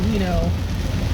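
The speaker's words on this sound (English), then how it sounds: "beautiful, rainy day. You can hear it in the background." Steady rain falling outside on a rainy day, a dense, even hiss with soft patter that continues throughout, with a voice briefly heard over it.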